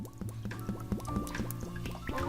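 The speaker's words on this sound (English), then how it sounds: "Pour vegetable oil into a pan." Vegetable oil pours into a frying pan for deep-frying chicken, a close, continuous gurgling stream with pitch rising as the pan fills, running steadily for a couple of seconds.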